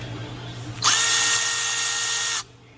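Milwaukee M12 Fuel extended-reach 3/8-inch electric ratchet, model 2560-21, whirring steadily at high pitch for about one and a half seconds, then stopping abruptly; close and loud over a low background hum.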